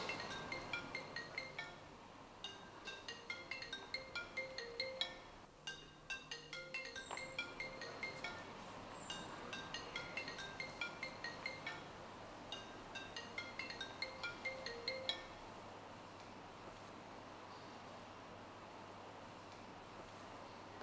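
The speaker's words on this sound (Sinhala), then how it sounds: "රන්දිෂ් ආට කෝල් එක" A phone rings with an incoming call, its repeating electronic tone pattern cycling steadily for about fifteen seconds over a constant background hum before stopping.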